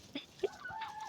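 Chickens near their coop give a few short, faint clucks in quick succession against quiet background.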